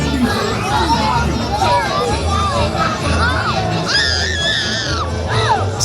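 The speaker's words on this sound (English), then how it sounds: "They're screaming." Children shriek and yell in high, wavering bursts amid dense crowd babble at Mickey's Not-So-Scary Halloween Party, a loud, continuous festive din close by.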